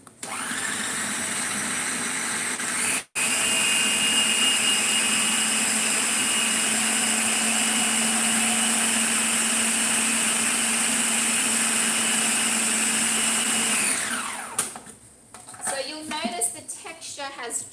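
Food processor mixing a vegan peanut pie crust toward a breadcrumb consistency: a loud, steady high-pitched motor whine runs continuously after a brief stop near the start, then spins down and gives way to rattling and handling noises.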